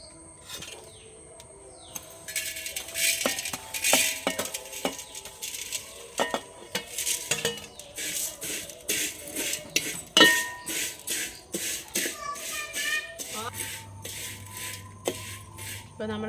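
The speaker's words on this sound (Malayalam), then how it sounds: "കുറച്ച് നെയ്യ് ഒഴിച്ച് നമ്മൾ സേമിയ ഒന്ന് വറുത്തെടുക്കണം." Vermicelli is roasted in ghee in a heated uruli pan, with repeated scraping and clinking of a stirring spoon against the metal, fairly close, and birds chirping faintly in the background.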